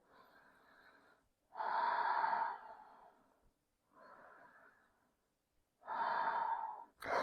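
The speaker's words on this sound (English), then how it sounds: "Find your Ujjayi breath." Ujjayi yoga breathing in a quiet class: slow, audible inhales and exhales through a constricted throat, each a soft ocean-like hiss, repeating close up with short pauses between breaths.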